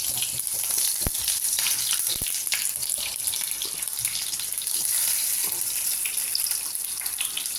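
Butter frying in a pan, a steady bright sizzle that runs the whole time with a few sharp clinks of a utensil against the pan.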